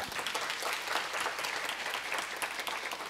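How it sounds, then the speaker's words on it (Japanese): Audience at an international university symposium in Kyoto applauding to welcome a guest speaker, a steady wash of many hands clapping heard from a distance. "拍手で"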